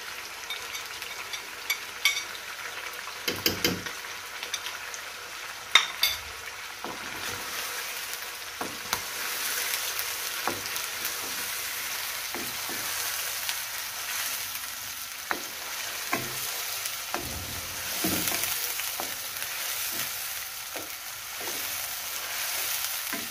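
Crushed ginger and onion fry in a pan for a Hyderabadi khati chicken, giving a steady, soft sizzle throughout, broken by occasional scraping clicks of stirring near the start and middle.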